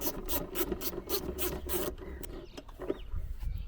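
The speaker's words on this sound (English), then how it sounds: "It's just 10mm. I've got an extension on the socket." A ratcheting socket wrench with an extension loosens 10mm air box bolts on a Toyota 2.0 D4D diesel, making a close, rapid rasping click train that slows into a few scattered clicks and rubs.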